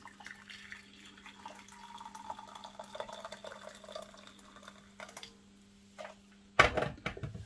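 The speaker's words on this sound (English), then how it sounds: "Now pour some boiling water into a saucepan." Boiling water poured into a saucepan, a soft watery trickle running for several seconds before a brief, louder splash near the end; no talking.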